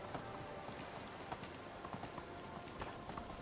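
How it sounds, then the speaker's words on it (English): Hooves of a horse clip-clop at a steady walking pace in the medieval life-sim game Medieval Dynasty, moderately loud and alone over a soft rainy ambience on a spring morning. "my reliable horse here."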